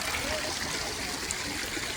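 Stream water flows in the hills of Kalimpong with a steady, close rushing and gurgling that stays even and continuous throughout.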